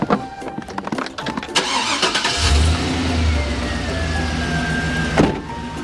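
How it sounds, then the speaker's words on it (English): A Chevy car engine cranks briefly, catches, then settles into a steady low idle that hums on close by. "Listen at that Chevy engine purr."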